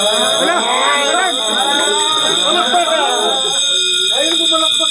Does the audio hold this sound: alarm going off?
yes